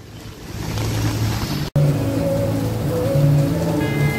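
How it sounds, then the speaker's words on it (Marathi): Heavy rain pours steadily outside a metro mall, a constant broadband wash with a low rumble, briefly cut by a sharp dropout before resuming just as dense. "पावसाचा जोर भरपूर आहे"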